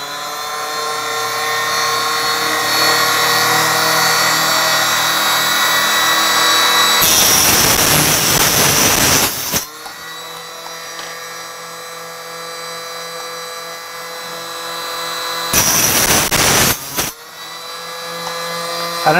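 A power case trimmer trims 300 Blackout rifle brass, running as a loud, steady motor whine with two bursts of harsher grinding as cases are fed in.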